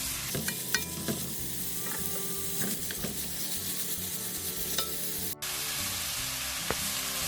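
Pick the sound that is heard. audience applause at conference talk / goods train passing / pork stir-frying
pork stir-frying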